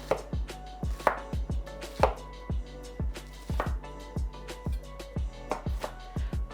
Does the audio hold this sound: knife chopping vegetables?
yes